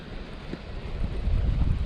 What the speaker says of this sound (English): with this wind blowing the way it is